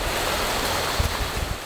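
A river in Costa Rica flows with a steady, full rush of broadband water noise, loud and close, with a few low thumps and no voices.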